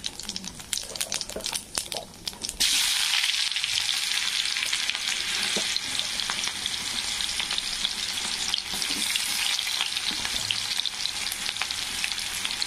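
Onion tipped into hot oil already crackling with mustard seeds and cumin: a few sharp pops, then a sudden loud, bright sizzle that holds steady and close.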